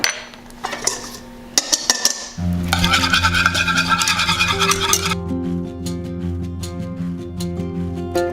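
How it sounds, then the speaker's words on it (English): A whisk or spoon scrapes and clinks steadily against a bowl while gelatin is stirred into hot cream for a mousse dome. There are a few sharp metallic taps first, then continuous rhythmic scraping close by. "add the gelatin to the hot cream and whisk it up."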